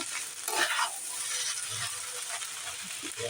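A spoon stirs fried rice with tomato sauce in a hot pan, scraping and clattering steadily with a faint sizzle underneath for a few seconds.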